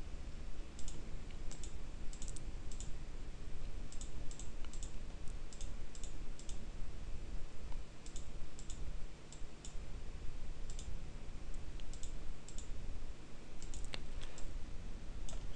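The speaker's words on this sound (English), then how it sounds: "By pressing keys on the keyboard like A for add cube and R for rotate, you can easily change modes and quite quickly get what you want." Quiet, close keyboard typing and key clicks from someone working in a browser-based 3D modeling app, with irregular bursts of taps alone over a steady background hiss.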